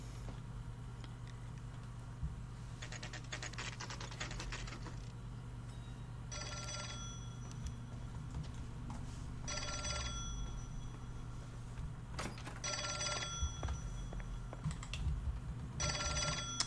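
An in-game telephone in L.A. Noire rings in several repeated bursts with short pauses between them, set over a steady low background hum, and no one speaks.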